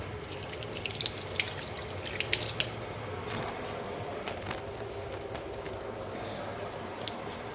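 Tap water runs into a measuring cup for quinoa in a home kitchen, a faint continuous trickle with scattered drips and small splashes throughout.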